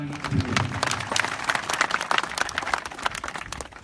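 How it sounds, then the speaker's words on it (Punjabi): A crowd at a tournament ground applauds the players, dense clapping that holds steady throughout, with a little speech underneath. "ਇੱਕ ਵਾਰ ਮੈਂ ਚਾਹੁੰਦਾ ਇਹਨਾਂ ਪਲੇਅਰਾਂ ਦੇ ਨਾਮ ਤੇ ਤਾੜੀ"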